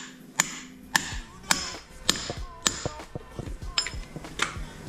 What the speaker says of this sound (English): Cardboard, seal driver, hammer.